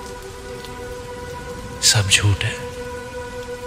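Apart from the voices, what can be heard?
rain falling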